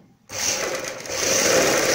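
Sewing machine running steadily close by as it stitches the hem of a salwar, a continuous whirring hum that starts abruptly after a short silence and holds at an even, fairly loud level.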